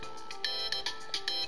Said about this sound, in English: That's a ringtone. I know that fucking ringtone, dude.